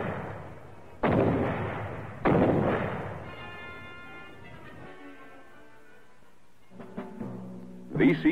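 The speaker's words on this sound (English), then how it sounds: "Care should be taken in detonating these grenades." Booby-trapped grenades detonating along a jungle trail in 1967 Vietnam, two or three sharp, heavy blasts a second apart, each trailing into a rumbling decay, followed by quieter clatter and a final burst.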